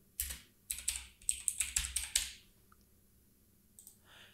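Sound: typing on a computer keyboard

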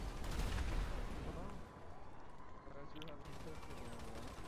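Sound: rifle gunfire in video game GTA V

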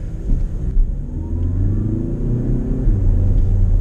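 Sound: Audi A3 engine revving with sprint booster

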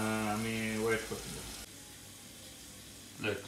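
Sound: onion frying in a pan

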